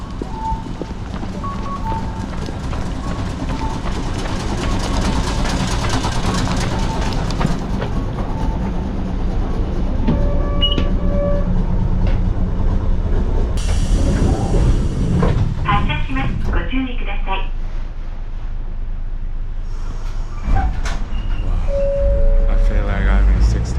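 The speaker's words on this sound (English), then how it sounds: "There is a tram station." A tram in Okayama rolls along its rails with a steady rumble and rhythmic clickety-clack over the track joints, loud and close, while people talk at times.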